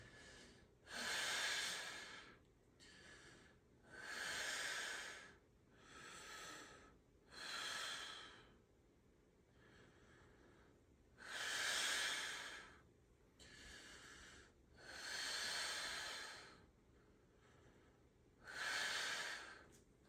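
Deep rhythmic breaths, about eight loud exhalations spaced every two to three seconds, taken while pushing through a Chinese medicine kidney exercise, close and with no talking between them.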